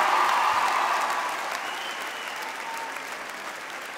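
Concert audience applauding at a live Armenian solo show, dense clapping loud at first and gradually thinning and fading over the seconds, with no speech over it.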